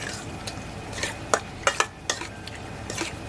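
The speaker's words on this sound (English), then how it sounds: "I'm just going to essentially scramble those eggs and get each shrimp into that egg mixture" Shrimp stirred into two beaten eggs in a bowl, giving a few soft, quick clinks and wet scrapes of a utensil, close by and fairly quiet, with no voices.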